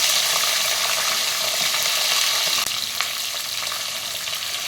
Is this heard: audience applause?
no